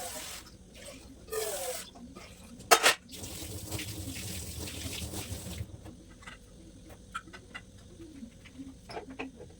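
Tap water runs into a pressure cooker as rice is washed, a steady splashing stream with a brief louder clatter partway through, while chickens cluck and birds call nearby and a voice speaks faintly.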